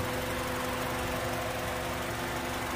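A Honda CR-V with a 2.4 engine and automatic transmission idles steadily under an open hood, a low, even hum with a faint whirring layer, with no talking.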